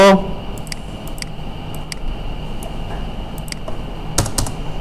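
Rapid irregular clicks of someone typing text on a computer keyboard, close and moderately loud, with brief pauses between bursts of keystrokes.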